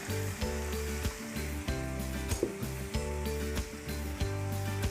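Duck meat and onions fry in a pan, a steady close sizzle running beneath prominent music throughout.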